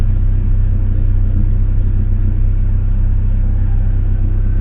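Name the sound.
Suzuki Jimny Katana engine being revved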